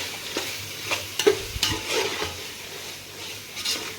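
Beef with masala being stirred in a pan, soft scraping strokes and light clinks of a spoon against the pan over a quiet sizzle, close and fairly faint.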